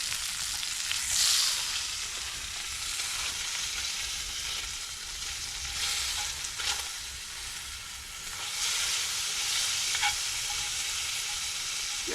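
Bacon sizzles and crackles steadily in a frying pan at an outdoor shelter build, a continuous bright hiss at moderate level with a few louder spitting flares.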